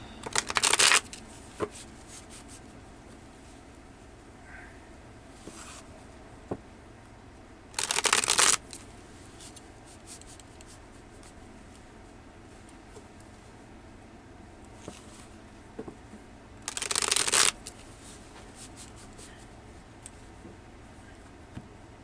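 Tarot cards being shuffled in three quick riffling bursts, each about a second long, separated by quiet stretches with faint taps and handling of the deck, close up and without talk.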